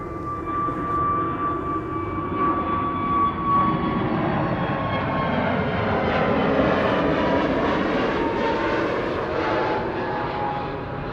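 A jet airliner departs from runway 24, the Kaagbaan, at Amsterdam Schiphol on a sunny winter day, its engine roar loud and sustained, swelling slightly midway and rolling on continuously without talk.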